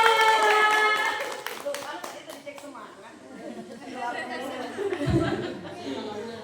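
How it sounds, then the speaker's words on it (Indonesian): Audience clapping at a Quran recitation test event for a children's group, a brief burst of claps at the start that fades into chatter and light laughter from the crowd, with voices talking over the rest. "tepuk tangannya dong"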